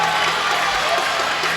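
A crowd at a high school boys basketball game makes a steady broadband roar of cheering and noise, with no break in the short stretch.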